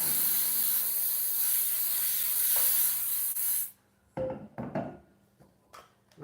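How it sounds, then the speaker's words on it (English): Baker's Joy baking spray hisses into a bundt pan in one long, close, steady burst, then stops, followed by a few short, quieter spray hisses. "We're going to spray it really good."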